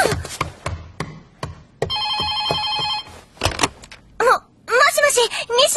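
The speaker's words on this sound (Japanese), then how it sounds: "ほら、電話だわ。" A telephone bell rings in a Japanese home, a steady bright electronic trill lasting about a second, heard between bursts of speech and household noises.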